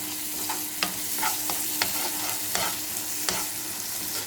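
Spices stirred into food frying in a pan after turmeric and salt go in, a steady sizzle with scraping spoon clicks and taps at irregular intervals, close and moderate, no talking.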